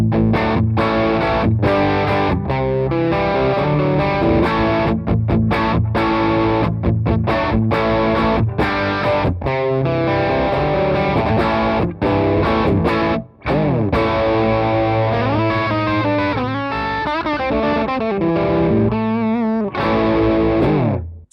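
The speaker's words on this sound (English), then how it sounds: "So we'll start with the Messiah Drive with all the knobs in the 12 o'clock position and the clipping switch on the low gain mode." An electric guitar through a Chevtone Messiah Drive overdrive pedal set to low gain plays mildly distorted chords and riffs with clean breaks between phrases, loud and upfront with no talk.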